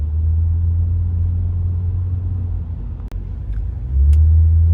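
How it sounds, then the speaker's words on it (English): Steady low road and engine rumble from inside a car moving through Los Angeles freeway traffic, loud and continuous, swelling slightly near the end with a brief faint click midway. "Los Angeles traffic."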